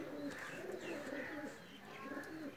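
A Pakistani Lakha pigeon gives soft, continuous, throaty cooing in repeated rolling phrases, close by, over steady low background noise.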